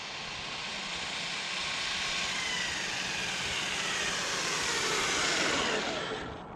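A Traxxas Slash 4x4 RC car runs outdoors at quarter throttle, its electric motor making a broad, rushing whine that swells and holds steady, then fades slightly at the end.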